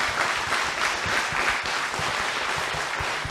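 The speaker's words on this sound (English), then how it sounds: "So give yourselves a round of applause." Applause from an audience at a Gettysburg trivia show, a dense, steady wash of clapping hands lasting about three seconds with no speech over it.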